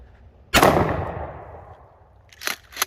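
Remington 870 Super Mag pump shotgun firing a 3.5-inch slug outdoors, a single loud close blast with a long decaying echo, followed by two quick metallic clacks of the pump action being cycled.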